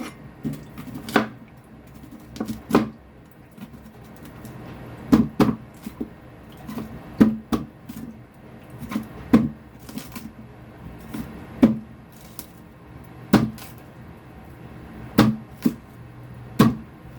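Beetroot being cut on a cutting board with a knife, giving repeated sharp chops at an uneven rhythm, close and clear with no talking.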